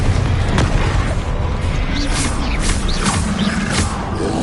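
Spell blasts in Hogwarts Legacy combat: a dense, continuous rumble of booming impacts and crackling magic bursts, loud and close, with a voice shouting over the din.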